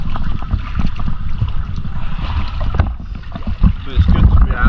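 Steady wind buffeting the microphone over choppy sea water by the Brighton piers, slapping and sloshing, a constant rough roar outdoors.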